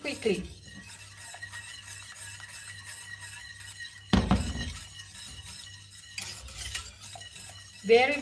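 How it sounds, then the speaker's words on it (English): A whisk is worked quickly through semolina in a pot for gnocchi alla romana, giving soft rhythmic swishing with a few sharper clinks against the pot. "I put inside the semolino, not semolina flour, semolino, and you have to mix very quickly"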